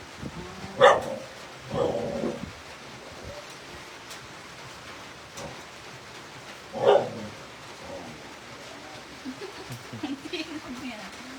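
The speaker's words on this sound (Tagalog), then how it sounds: "May dumaan na aso." A dog barks a few times at a distance, scattered irregular yips over a muffled outdoor background with faint voices.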